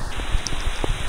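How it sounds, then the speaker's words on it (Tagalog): Heavy rain pours steadily outdoors in the Philippines, a dense even hiss of drops filling the short stretch without pause, close and moderately loud with no talk over it. "makalakas na talaga yung ulan"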